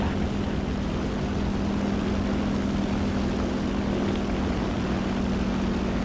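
Luftwaffe propeller aircraft drone steadily through a video game battle, a constant loud engine roar with a low hum that fills the whole stretch without a break.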